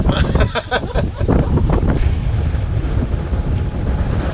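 Sailboat motoring under its engine at about 1800 rpm, a steady low engine drone mixed with wind buffeting and water wash, continuous and fairly loud, with no talk.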